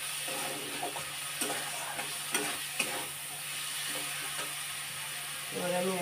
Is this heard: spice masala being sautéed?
yes